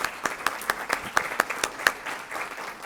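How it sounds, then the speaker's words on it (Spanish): Audience at a medical presentation applauding two presenters, a thin crowd of clapping hands with distinct claps standing out above a soft wash, moderately distant. "les pediré un aplauso por favor para ellas"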